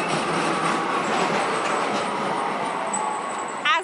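A tram passes along a Krakow street at night, a sustained rumbling and rolling roar close by with faint rail clatter, ending with a short squeal.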